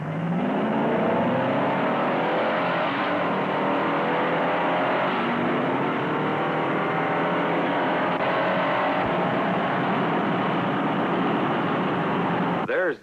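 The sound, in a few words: Galaxie and Impala cars racing, accelerating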